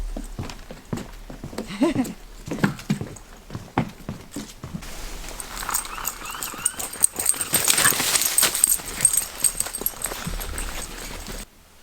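A foxhound at the beach on a calm November lakeshore, with a few sharp dog sounds near the start, then sniffing, movement and scuffling against a broad wash of wind and water.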